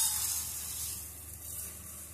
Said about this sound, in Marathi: आता आपण तांदूळ भाजून घेऊया